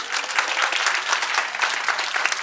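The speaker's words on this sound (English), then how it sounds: "So let's give them a round of applause." Audience gives a round of applause, a steady wash of many hands clapping at moderate volume with no voices over it.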